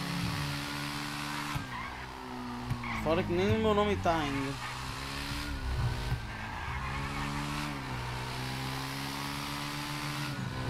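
A motorcycle in GTA 5 escaping a police checkpoint, engine droning steadily with rising and falling revs and a sharp tire-skid squeal, while someone talks over it.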